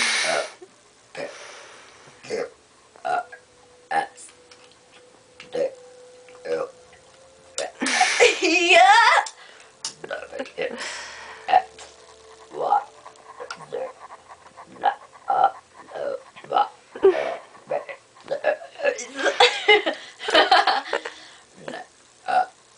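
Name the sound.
burping the alphabet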